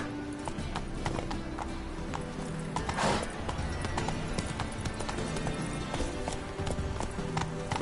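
The horse Roach from The Witcher 3: Wild Hunt galloping, hooves clip-clopping in a fast, steady rhythm throughout, with a brief whinny partway through and faint background sounds.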